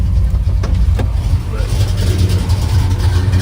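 A 482 Oldsmobile V8 in a 1971 Cutlass idles rich with a low, steady rumble close by, slightly uneven and throaty throughout.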